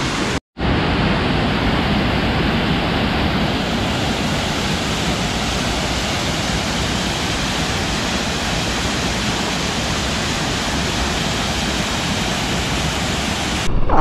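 River water pouring over rocks into the Akaya Gangai waterfall in the Kolli Hills, a loud, steady broadband roar and splash that fills the clip without a break, close by and with no voices.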